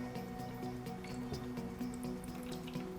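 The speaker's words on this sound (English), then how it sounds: "Fill the garden up with water until the float is on the same level with the lid and not higher." Water pours and trickles into the reservoir of a Click and Grow Smart Herb self-watering garden, a soft continuous filling gurgle with rising tonal bubbling and small drips, quiet and close.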